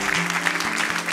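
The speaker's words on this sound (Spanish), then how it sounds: "Démele un aplauso a él" Church congregation applauding a speaker during a worship service, a short burst of dense steady clapping with a faint hum of instruments underneath.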